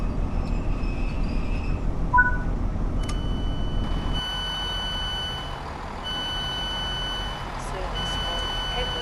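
Train on the Thames Valley branch line in a video game, a low rumbling drive with electronic beeps and tones from the train, while an automated announcement speaks over it.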